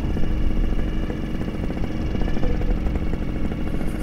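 Small two-stroke paramotor engine on an Ozone Zeno wing idling steadily in flight, a continuous buzzing drone with faint rattling texture, close and fairly loud throughout, no talk.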